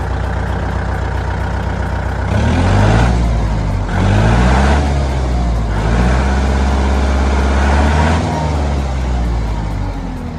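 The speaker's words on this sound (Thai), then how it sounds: "เดี๋ยวเซลไมจะพาฟังเสียงนะครับ เสียงเครื่องยนต์นะครับ" A Kubota MU4902 tractor's diesel engine runs loud and close, rising in several distinct revving surges over a steady idle, with no talk over it.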